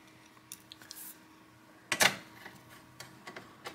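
Small clicks and a brief loud clatter of screws or parts as screws are taken out of a Lenovo IdeaCentre AIO 3 24ADA6 all-in-one computer, close and sparse against a quiet background.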